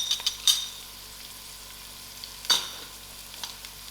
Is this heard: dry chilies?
yes